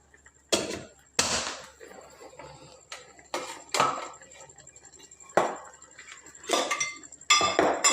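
Maggi noodles mixed in a pan: sharp spoon clinks and knocks against metal come in scattered bursts with quiet gaps between them, close and fairly loud, no talk.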